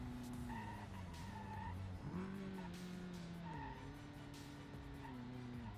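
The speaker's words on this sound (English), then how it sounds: "We're gonna see if we can get a drift in." Tires squeal continuously as a car slides through a drift in BeamNG Drive, with the engine droning under the skid at steady, close volume.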